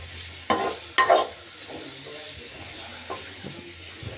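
Onions sautéing in a pot for a Sri Lankan style chicken curry, a soft continuous sizzle with two sharp stirring scrapes near the start and a few lighter clinks later.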